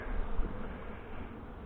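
Honey bees buzz during a beehive inspection, a soft continuous droning hum of many insects, faint and even throughout with no talking.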